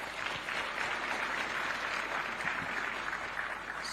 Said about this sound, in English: I think we must clap for ourselves